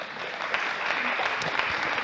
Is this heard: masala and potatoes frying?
no